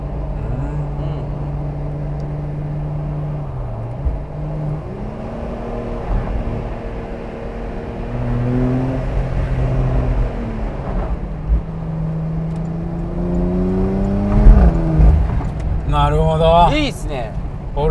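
Porsche Macan Turbo Performance engine burbling in Sport Plus mode, a steady low rumble from inside the cabin running under continuous conversation, swelling slightly near the end.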